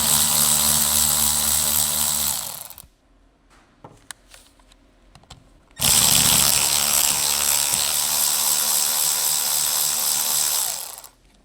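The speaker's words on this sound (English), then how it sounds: "with the medium impact wrench, remove the port cover retaining bolts from the new compressor" A medium impact wrench with a 10mm long socket backs out port cover bolts on a new Honda Civic A/C compressor: two loud sustained bursts of whirring and hammering, split by a quiet gap with faint clicks.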